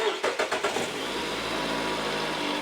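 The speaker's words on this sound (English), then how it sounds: "let's go ahead and start him up and see if he leaks or blows up" The engine of a 2015 Chrysler 200c, just after an oil change, cranks with a quick series of rhythmic starter pulses, then catches and settles into a steady close idle, with faint talk underneath.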